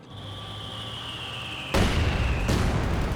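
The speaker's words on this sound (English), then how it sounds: "Mortar hits up there." In a Company of Heroes 2 battle, mortar shells land as two loud, heavy bursts of rumbling impact noise over a steady background hum.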